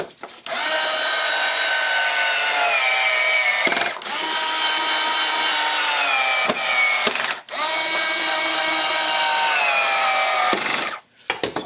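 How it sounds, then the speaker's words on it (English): A power driver runs screws into the front panel of a portable AC unit under repair, three long whirring runs, each ending in a brief stop, close and fairly loud. "So we'll put these screws in the front first."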